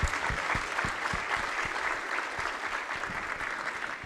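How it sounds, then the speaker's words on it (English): Steady audience applause for a competition committee at an opening ceremony, dense continuous clapping throughout at moderate level with no voices over it. "Can we please give a round of applause for the Committee of FIT Competition?"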